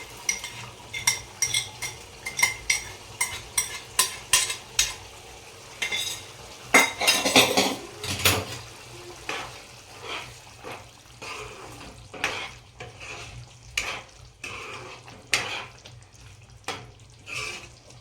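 Masala paneer tipped into a thick, ready gravy and stirred in a pan, with repeated close spoon scrapes and soft sizzling in an uneven rhythm, plus a louder clattering burst midway.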